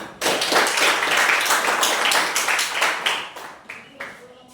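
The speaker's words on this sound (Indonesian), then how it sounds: "Beri tepuk tangan" Classroom applause from a group of teachers or students after a presentation, a burst of dense clapping from several people nearby that starts abruptly and thins out over a few seconds.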